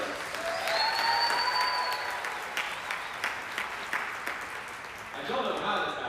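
Applause from the audience at a Teacher of the Year ceremony for the top 10 finalists, with sustained clapping and a few whistles early on that fade toward the end.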